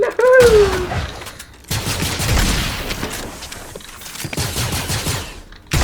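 Gunfire in Fortnite, bursts of rapid shots and booms that fill most of the stretch with brief gaps, along with a short rising electronic tone near the start.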